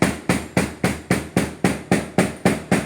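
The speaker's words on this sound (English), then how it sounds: "So directional hammering is important." A hammer drives tack strips into upholstery with ten evenly spaced sharp blows, each a loud close strike that quickly decays, in a steady rhythm with no voices.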